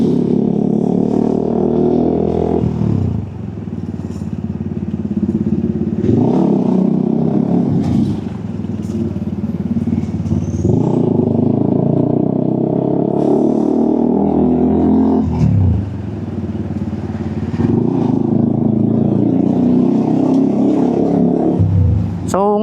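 Motorcycle ride through road traffic under cloudy, darkening skies: a steady engine drone with rising and falling revs, passing vehicles and rumbling wind noise, loud and close throughout.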